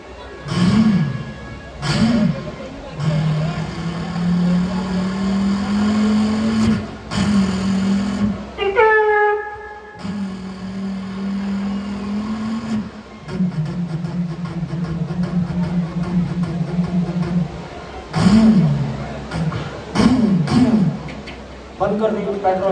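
A man vocally imitates a motorcycle engine left running at a village fair: a close, steady buzzing drone in long stretches, broken by short pauses and breathy gaps.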